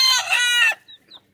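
Young rooster, a stag, giving a loud, harsh, strained call close up, followed by a few short faint clucks.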